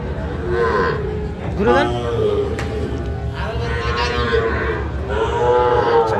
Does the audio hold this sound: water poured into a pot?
no